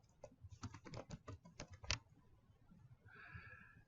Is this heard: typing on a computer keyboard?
yes